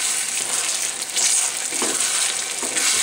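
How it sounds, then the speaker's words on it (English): Eggs fry in a tablespoon of canola oil in a frying pan while being stirred, a loud, steady crackling sizzle heard close up with no talking. "Sizzling away."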